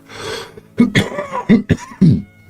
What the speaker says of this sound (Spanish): Hoy estamos con la tos, perdón.